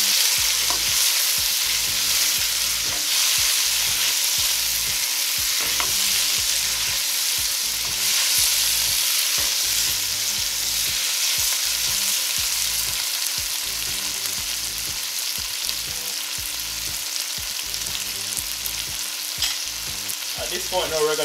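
Thyme and scotch bonnet pepper frying in a pan for a Jamaican curry rundown fish, a continuous close hiss of sizzling oil with steady rhythmic stirring scrapes throughout, no voices.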